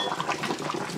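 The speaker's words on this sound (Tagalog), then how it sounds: "i-drain muna natin tong ating pasta" Cooked fettuccine pasta being drained of its hot water in a home kitchen, a steady splashing pour of liquid heard alone at moderate volume.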